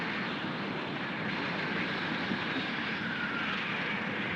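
Two airplanes approach in a 1934 film soundtrack, a steady droning engine rumble with a faint rising whine, moderately distant and unbroken throughout.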